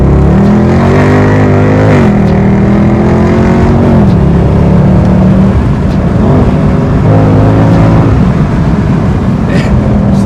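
A Mercedes C63 AMG W204 with 535 hp roars loudly while driving, its engine note climbing and dropping through several gear changes, heard from close by without talking.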